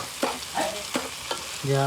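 Kantola vegetable curry being stirred in a frying pan, with several scraping strokes of a spoon over a steady close sizzle and no talking.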